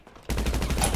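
A rapid burst of video game gunfire kicks in abruptly after a short quiet moment, a dense, loud, continuous rattle of shots lasting under a second.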